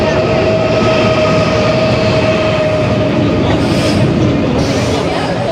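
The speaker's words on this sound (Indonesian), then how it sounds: "Kita siap-siap mau naik kereta api ya guys" A train rumbles steadily at a Soviet-era railway station in Samarkand, with a continuous loud roar and a sustained tonal hum throughout, and people speaking nearby.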